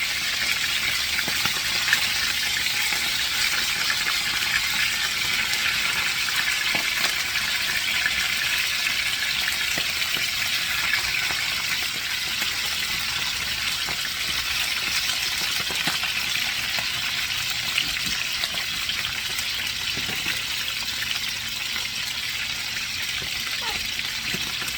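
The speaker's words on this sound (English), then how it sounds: "But they just want you to start browning your sausage." Sausage and potatoes browning in a frying pan give a steady, even sizzle and crackle that continues unbroken for the full length.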